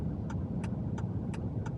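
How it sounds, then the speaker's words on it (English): A pickup truck towing a hotshot trailer drives along with a steady, close low engine and road rumble from inside the cab, overlaid by five evenly spaced light ticks; no one speaks. "you can probably tell we're in the truck and driving it"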